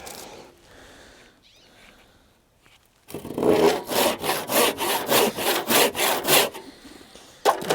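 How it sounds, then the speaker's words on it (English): Crosscut hand saw cutting through wood while building a small pole barn: quiet handling at first, then about ten loud, steady rasping strokes in an even back-and-forth rhythm, close by. "if this is crosscut saw, and very hard to get going, so but it cuts through the wood so much faster."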